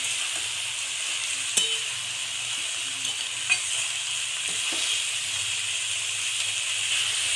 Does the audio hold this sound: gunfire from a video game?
no